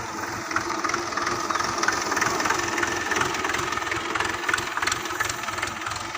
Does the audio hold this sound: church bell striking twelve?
no